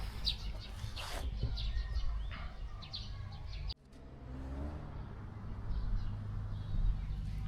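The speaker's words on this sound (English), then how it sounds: "You can hear the birds chirping" Birds chirp in scattered short calls over a steady outdoor hum of traffic near a Russian shop in Gorki Leninskiye, with a passing car rising and fading beneath them.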